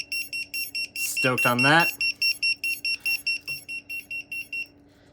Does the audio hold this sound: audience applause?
no